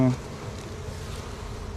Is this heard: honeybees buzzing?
yes